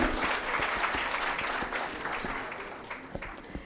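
Audience clapping after a lecture at a medical conference, a brisk round of applause at moderate distance that starts full and gradually thins out over a few seconds.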